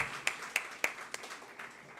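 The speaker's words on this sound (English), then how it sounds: "give ourselves a huge round of applause" At a temple's ninth anniversary celebration, a handful of distinct claps ring out in a sparse, evenly spaced rhythm, fairly faint and thinning toward the end rather than building into full applause.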